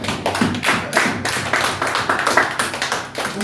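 Church congregation applauding during a French-language sermon, a steady run of dense hand claps lasting throughout, fairly loud and close with no talk over it.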